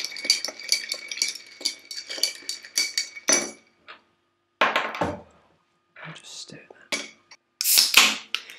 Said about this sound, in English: Stir that.